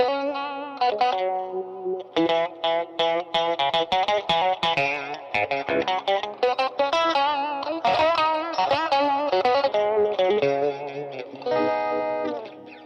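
A Walrus M1 modulation effects pedal processes a guitar as its rate and depth are turned up, producing choppy pulsing, wavering chorus-like notes and sustained warbling chords, loud and close with no talking.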